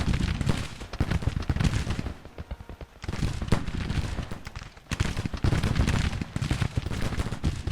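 Battlefield gunfire in the Civil War strategy game Grand Tactician: dense, rolling volleys of musketry and cannon fire crackle and boom almost continuously, with two short lulls between loud bursts.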